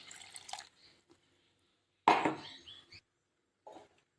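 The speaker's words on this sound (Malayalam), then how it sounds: "കുറച്ച് മിക്സിയും കൂടെ കഴുകി കുറച്ച് വെള്ളം കൂടെ ഒഴിച്ചു കൊടുക്കാം" Rinse water from a mixer-grinder jar splashes into a pan of small sardine curry with roasted coconut, heard as a short loud pour after faint clinks, then a brief trickle, nearby and without talk.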